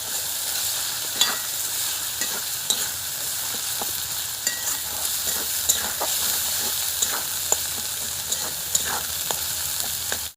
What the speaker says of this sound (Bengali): এবার দেবো খানিকটা টমেটো কুচি, লবণ দেওয়া ছিল আর একটু লবণ দেবো, দিয়ে এটা ভালো করে এবার কষে নেব।